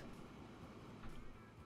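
Train rolling along in the Transport Fever 2 simulation game, a quiet, steady rumble of rail cars with faint clatter throughout, heard alone at low level.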